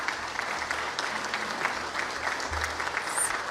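A crowd applauding project firms at an outdoor event on the Illinois Beach State Park shoreline, steady continuous clapping at constant level with a low rumble beneath and no speech.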